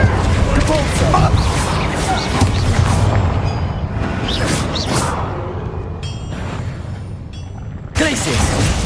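Spell blasts in a Hogwarts Legacy battle, including a Repulsor, land as repeated booming bursts and whooshes over a dense rumble of combat effects. A voice speaks over the action.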